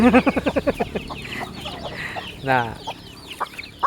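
Chickens cluck in a rapid burst close by, with more clucks and a drawn-out squawk amid farmyard noise.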